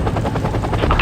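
Apache helicopter in the war video game Act of War, a loud close rotor drone with rhythmic blade thumping throughout a brief moment.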